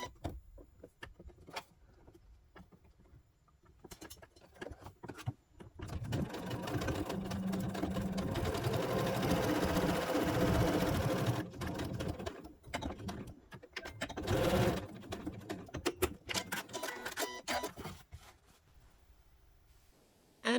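A sewing machine stitching the seams of a fabric cube, quiet handling and clicks at first, then a long steady motor whir, a pause, another shorter run and scattered clicks as it winds down, with no talking.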